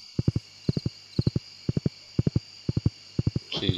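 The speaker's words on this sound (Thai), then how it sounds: "ขี่ม้านี่ถือว่าเร็วพอสมควรนะ" Horse hooves clip-clopping in quick galloping triplets in the Stardew Valley video game, about seven evenly spaced bursts of sharp clip-clop beats, loud and close, ending with a brief louder rustle.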